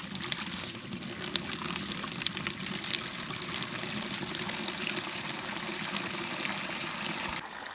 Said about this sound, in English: Wow, look at the water pressure coming out now